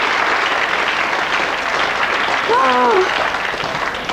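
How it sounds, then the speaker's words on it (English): A studio audience on a 1991 TV quiz show applauds, dense clapping heard loud and steady throughout, with a voice speaking briefly over it near the end. "Give them a big round of applause, everybody."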